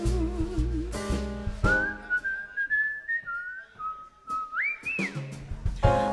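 A person whistles a short, melodic jazz tune with sustained, bending notes, clearly over piano and bass accompaniment at a live jazz club performance.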